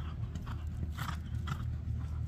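A horse named Lexus moves along with hooves clip-clopping in a quick, fairly even rhythm, heard close but quietly over low background rumble.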